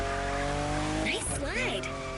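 A fifth-generation Toyota Supra slides in a racing video game, its engine drone holding steady before tires squeal in rising and falling sweeps for about a second.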